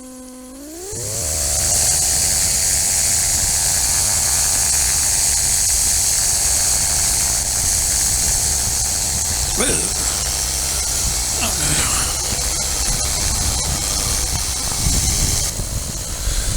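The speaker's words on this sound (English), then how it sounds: "Golf Tango Mike taking off 29, departing to the south." Light aircraft engine at takeoff from runway 29, rising quickly to full power and holding a loud, steady drone with a hiss of wind over it, as heard from inside the cockpit.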